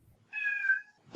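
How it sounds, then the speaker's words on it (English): A cat lets out a single clear meow of about half a second, close and fairly loud, with faint low rumbling before it and a brief noise at the end. "The timing on that meow was so good."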